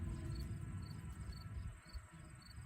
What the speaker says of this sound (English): as this bug is buzzing on me, rose beetles